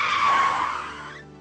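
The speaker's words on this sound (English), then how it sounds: "we would be unable to hear a car coming from behind and jump out of the way in time" A car on the road sweeps past with a broad, loud tire-skid hiss that holds for about a second and then fades away, with no voices.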